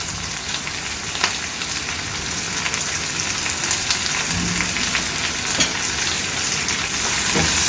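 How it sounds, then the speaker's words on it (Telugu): Chopped fenugreek leaves with turmeric fry in a pan, giving a steady, dense sizzle throughout with faint stirring taps and no talk. "ఆకంతా కూడా పచ్చి వాసన పోయే వరకు వేయించుకోవాలి."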